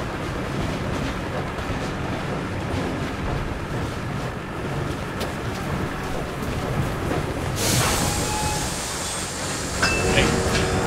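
A moving train in the World War II shooter Enlisted gives a continuous rattling, rumbling clatter. It stays loud throughout, and a brighter hissing burst comes in near the end, with some voice activity mixed in.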